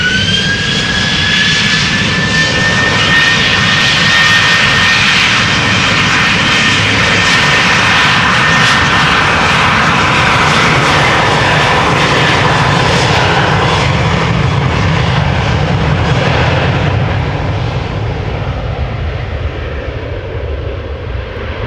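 A KLM Embraer E190 jet at Amsterdam Schiphol roars loudly and continuously during an aborted takeoff, its broad engine rumble and high whine holding steady before slowly easing off toward the end.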